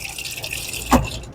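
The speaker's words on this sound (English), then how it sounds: "The lemonade is pouring." A Lancer dual-pour soda fountain dispenses lemonade, a steady close hiss of pouring liquid that ends in a brief gush and splash as the flow cuts off.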